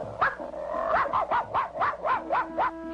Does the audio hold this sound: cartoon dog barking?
yes